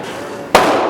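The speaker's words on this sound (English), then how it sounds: "Kiki is shooting the 22" A single loud crack from a semi-automatic .22 Mark 2 pistol at a shooting range, sharp and close, followed by a lingering ring and reverberation after a quieter stretch of background noise.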